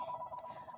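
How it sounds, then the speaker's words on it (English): A mobile phone rings nearby with a steady electronic ringtone pulsing in a quick repeating pattern, fairly faint and heard alone with no one speaking. "that is my phone ringing and I cannot turn it off"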